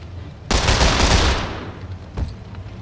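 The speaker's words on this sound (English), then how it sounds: "And Isaac, shoot the guy." Gunfire in the video game Lamplighter's League: a loud, sudden burst of rapid shots fades into a rumbling decay, then a second single sharp crack follows about a second and a half later.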